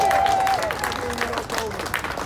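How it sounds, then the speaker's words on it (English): A crowd claps for a speaker at an outdoor street rally about low traffic neighbourhoods in London, brief scattered applause throughout with voices talking over it. "Give Lizzie a round of applause, please."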